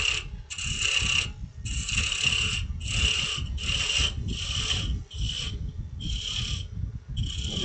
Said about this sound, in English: I'm going to turn this thin down a little bit using my roughing gouge.